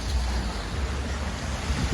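A river on the Camino de Santiago pilgrimage route between Lorca and Villamayor de Monjardín rushes steadily with a broad continuous roar, mixed with some wind noise on the microphone, and no talking.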